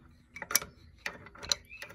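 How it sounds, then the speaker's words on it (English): Ratchet adjuster mechanism on the rear handbrake shoes of a Hyundai ix35 clicking as it is pushed down, several sharp metallic ticks spaced roughly half a second apart, close and fairly quiet. "we're pushing down on that ratchet type mechanism"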